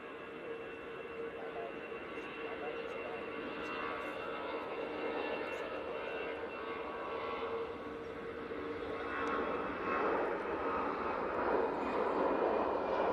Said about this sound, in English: EasyJet off to Belfast, using the A320-200.